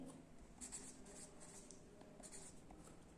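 A pen or marker writes out a line equation, with steady soft scratching strokes and short taps, faint and close, no speech over it.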